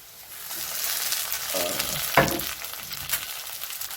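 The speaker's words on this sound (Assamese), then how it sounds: "আদা নহৰু পেষ্ট দি দিলোঁ" Onions fry in a pan with ginger garlic paste added, giving a steady sizzle broken by stirring scrapes and a sharp spatter, close and fairly loud with no talk.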